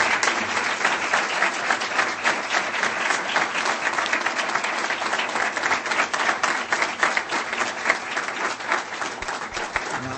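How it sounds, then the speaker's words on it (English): An audience applauds at length after a talk on the transformation in Pakistan, a thick, continuous clapping that holds steady and loud for ten seconds without letting up. "I bet the applause would have been a few seconds shorter if I had gone with the written text."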